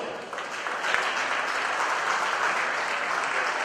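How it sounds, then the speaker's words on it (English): A crowd applauds at a western spring national cattle show, a steady, fairly distant wash of clapping that holds at an even level throughout with no voices over it. "let's give these fraternity winners a big round of applause"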